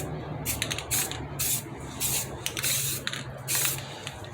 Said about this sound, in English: All right, so we got a coat on each side.